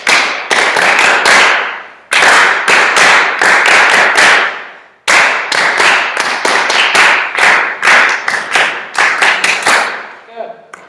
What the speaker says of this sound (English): We're going to clap with the rhythm.